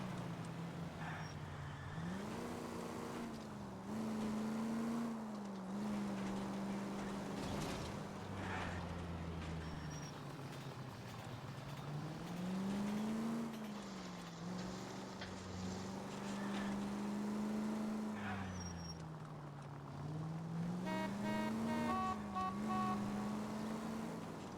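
A car engine hums steadily in the video game L.A. Noire, its pitch rising and falling in repeated gear-like sweeps with a faint horn-like toot near the end.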